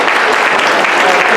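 Audience at the Hartford History Bee applauds loudly and steadily, a dense wash of many hands clapping throughout with no break.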